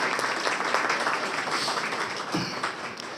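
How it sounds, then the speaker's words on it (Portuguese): Applause from an audience at a public presentation in Santa Maria, Federal District, Brazil, honouring a team: dense, steady clapping throughout, fairly loud and sustained without a break, with no talk over it. "eu peço a todos vocês aí uma salva de palmas para essa equipe maravilhosa aí"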